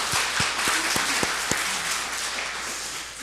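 A church congregation applauds together during a Sunday worship service, a steady, dense wash of clapping with a few sharper individual claps standing out over about three seconds.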